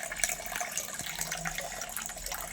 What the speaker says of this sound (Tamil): தண்ணி ஊற்றணும் ஃபஸ்ட்டு.